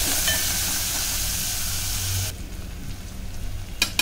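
Finely chopped coriander sizzles in hot oil for a tempering. A loud, dense hiss fills the first two seconds, then drops to a quieter crackle with a brief flare near the end.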